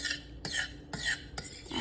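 Unsalted butter and chocolate stirred in a pot with a utensil, making soft repeated scraping strokes against the pan in a slow, even rhythm, close and quiet with no voices.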